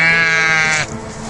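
A sheep grazing near a forest outside a village gives a single loud, wavering bleat close by, ending abruptly after under a second, followed by quieter background sound.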